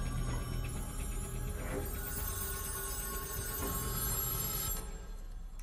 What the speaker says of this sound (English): And then we go back to the ringing phones.